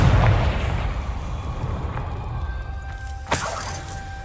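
A blasting spell in Hogwarts Legacy goes off as a deep booming explosion with rumbling low end, fading into a steady hum before a sharp crackling impact with ringing tones.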